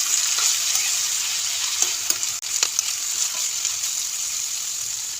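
Papaya cooking with sardines in a pot gives off a constant hiss of simmering liquid, with a few soft scrapes and knocks as it is stirred.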